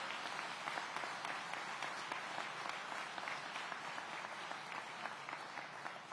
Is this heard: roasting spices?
no